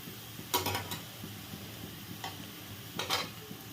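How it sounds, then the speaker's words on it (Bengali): Mixed vegetables including pointed gourd, pumpkin, sweet potato, radish and potato frying in a pan, with brief bursts of stirring and scraping over a steady low sizzle, loud and close. "তো সবজিটা ভাজা হোক"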